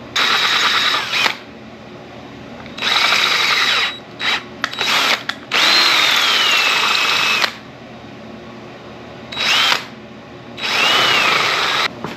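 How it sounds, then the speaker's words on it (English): A power drill whirs in several bursts of varying length, separated by short pauses, close and fairly loud, drilling out corroded screw holes on a Ford F250 Warn locking hub. "I actually got to drill these out a little bit because it's so corroded."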